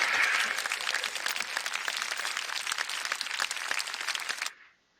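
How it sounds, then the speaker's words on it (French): Recorded crowd applause played as a virtual audience during an online improv match, a dense, steady wash of many hands clapping loudly for about four and a half seconds before cutting off abruptly. "le public vous applaudit bien fort"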